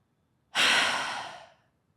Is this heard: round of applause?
no